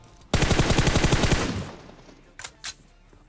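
Automatic gunfire from a PUBG Mobile match, a loud rapid burst of shots lasting over a second, then fading, followed by two short sharp reports after a brief pause.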